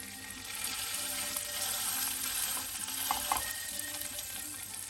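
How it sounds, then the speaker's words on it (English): A fish fillet, laid scale side first in olive oil and clarified butter in a warm pan, fries with a steady close sizzle and a few faint clinks. "Warm up a pan, add some olive oil and clarify butter, then add the fish fillet scale side first."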